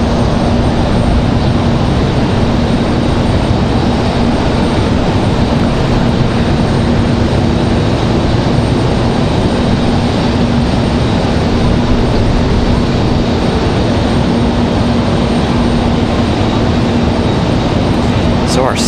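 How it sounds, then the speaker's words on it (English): An airliner arriving on the afternoon flight from DFW at Raleigh-Durham airport, heard as a loud, steady, unbroken engine roar with a low droning hum beneath, sustained at an even level. "So our second DFW flight arrival this afternoon."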